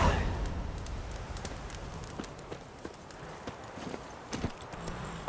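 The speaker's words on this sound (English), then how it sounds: "Come on, Roach" Hooves of Geralt's horse Roach in The Witcher 3 video game clip-clop in a steady trot, close and moderately loud over a low rumbling game ambience, with no talking.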